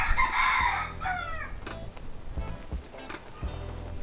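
A rooster crows loudly at first in Moalboal, Cebu, Philippines, then its call trails off, followed by faint outdoor noise and a few soft knocks and clicks.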